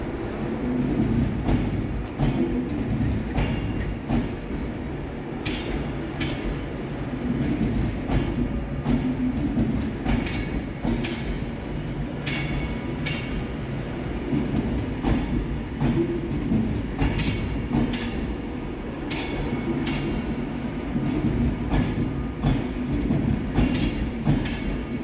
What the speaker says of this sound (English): Next train out to depart is 390115, working the 1315 Avanti West Coast service from London Euston to